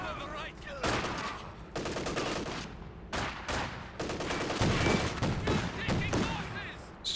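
Flak Panzer anti-aircraft cannon in Company of Heroes 2 fires at infantry behind heavy cover, in dense, loud rapid bursts broken by short gaps, with game battle noise and some talk running underneath.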